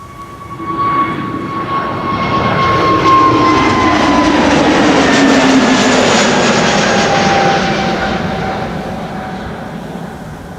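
A jet airliner departs Amsterdam Schiphol Airport close by, its loud engine roar swelling up quickly, holding strong with a whining tone that slowly falls in pitch, then easing off toward the end.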